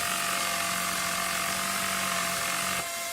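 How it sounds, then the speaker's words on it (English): A power tool gadget in the video game Battlefield: Bad Company runs with a loud, continuous grinding buzz and a steady hum, then cuts off abruptly near the end. "I especially like the power tool"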